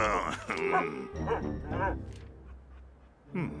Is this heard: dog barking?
yes